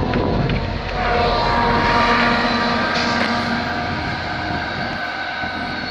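A fast VIA Rail passenger train 72 rushes past at a level crossing on Old Guelph Road in Dundas, Ontario, with rear engine 6416. A loud, steady roar of wheels and engine dominates before easing slightly as the train passes.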